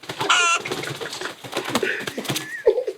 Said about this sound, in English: Look at this lovely little chicken.